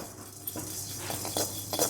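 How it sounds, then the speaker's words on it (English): Jeera and curry leaves dry roasting in a kadai without oil, a utensil scraping and clinking against the pan in a few soft, separate strokes at close range. "I am just frying it well without oil into the kadai."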